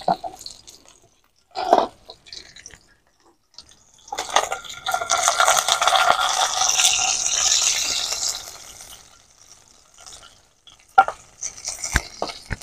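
Fish frying in a pan gives a few short clatters, then a strong sizzle swells for several seconds before fading back to scattered scrapes and ticks near the end.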